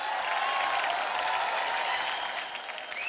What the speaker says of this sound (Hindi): जोरदार तालियां ताहिर के लिए।